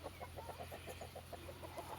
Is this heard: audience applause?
no